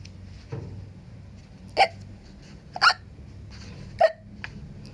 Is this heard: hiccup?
yes